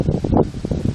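Wind gusts through an outdoor park, a brief breathy rush buffeting the microphone with faint rustling, no voices.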